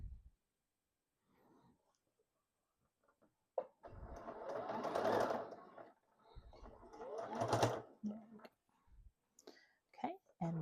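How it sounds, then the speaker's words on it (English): Sewing machine stitching quilt binding on a table topper: two short bursts of motor whir and rapid needle clatter, each a couple of seconds long, separated by handling clicks and soft quiet talk. "we're ready to sew again"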